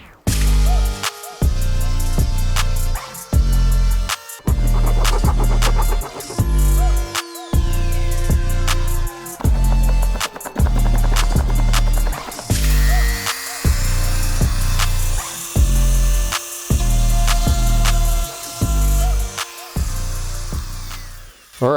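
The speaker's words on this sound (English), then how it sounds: "I'm going to start working with the Dremel to clear these out a little bit" A Dremel rotary tool clears out pilot holes in the body panels of a C8 Corvette Z06, whining loudly in repeated short bursts of a second or two, separated by brief pauses, with no talk over it.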